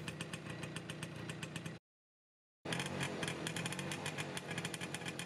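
A small German NSU Quickly moped engine idles with a fast, steady putter, briefly cutting to silence before the same idle resumes.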